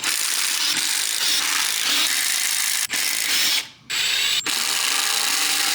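Rapid continuous clicking of a ratchet working the oil pan bolts on a QR25DE-engined B15 Sentra, loud and close, broken by a few brief pauses and one near-silent gap.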